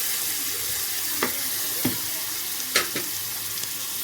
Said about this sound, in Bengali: পেঁয়াজটা আমার ভাজা হয়ে এসছে, এটা আমার ভাজা হয়ে গেছে